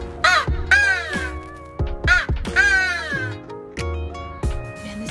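A Primo's handheld crow call imitates crow caws, several loud raspy calls, some short and some drawn out, sounded close and alone with no talking.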